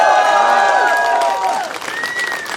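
A crowd at an amateur MMA bout cheers and applauds the fighters, dense clapping and shouting over the whole stretch with a voice rising above it, easing slightly toward the end.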